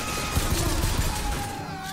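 Rapid gunfire bursts in the video game Bioshock Infinite, dense and continuous with crackling impacts and a sustained tone over a busy game soundscape.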